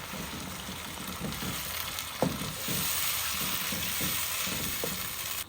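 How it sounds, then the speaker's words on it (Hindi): Ground tomatoes stirred into softened frying onions for mutton karahi, a steady bright sizzle with occasional soft scrapes and clinks of the spoon against the pan, close and continuous without talking. "टमाटरों को मिक्स कर दें।"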